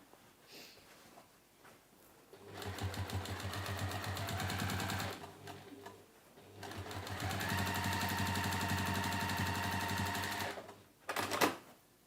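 A sewing machine stitches fabric for a three-pocket tote bag in two long, steady runs of rapid mechanical chatter, with short quiet pauses and a brief clunk near the end.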